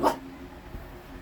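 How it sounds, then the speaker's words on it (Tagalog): A pet dog lets out a single short, soft bark right at the start, followed by near quiet with faint room noise. "Tahol nga mahina, Goku."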